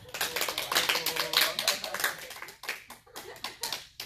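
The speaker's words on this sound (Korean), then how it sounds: "크게 한번 박수 한번 하겠습니다." A church congregation applauding, a burst of many hands clapping in dense, overlapping claps that swell and then thin out toward the end, close and lively.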